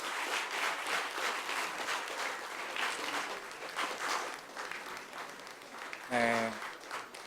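A church congregation at a Sunday morning worship service applauds the children's choir as they leave, steady crowd clapping that rises and falls, with a voice speaking over it near the end.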